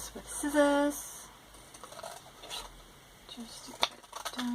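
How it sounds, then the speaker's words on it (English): Scissors snip through a paper gift tag in a few short, crisp cuts, with a voice talking briefly before and after the snipping. "And I'll just do this with scissors."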